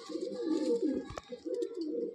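A Madrasi pigeon from a breeding pair coos close by, a soft rolling throaty call that repeats in two rounds with a brief pause and a light flutter between.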